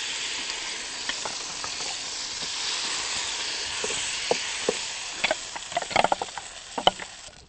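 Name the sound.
frying in oil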